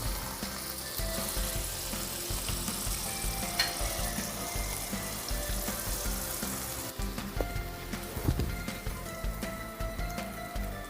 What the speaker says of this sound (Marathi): कांदा आणि टमाटर चांगला फ्राय झाला आहे